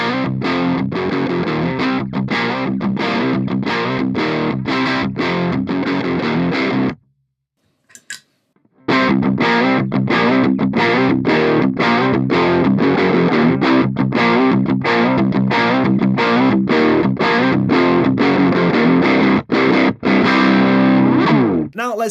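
Electric guitar played through an ENGL Fireball on the clean channel with gain maxed and the boost engaged, giving a driven, crunchy tone in steady strummed chords, loud and alone, with a brief pause partway before playing resumes.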